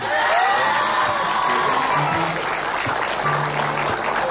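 Studio audience on an Indonesian TV talk show applauds loudly and steadily, with cheering and whoops mixed into the close, sustained clapping.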